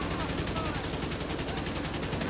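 Rapid gunfire from the King Breaker rifle in The Division 2 video game: a dense, steady stream of shots in quick rhythm, loud and continuous throughout.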